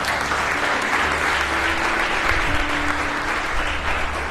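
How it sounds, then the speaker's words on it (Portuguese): A church congregation applauds together, a dense, steady wash of clapping that stays loud and even for several seconds with no talk over it. "Dá um aplauso ao Rei da Glória."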